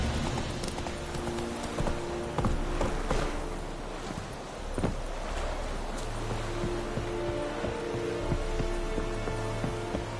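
Horse hooves trotting in a video game, a steady clip-clop rhythm under light rain-like ambience, moderately close.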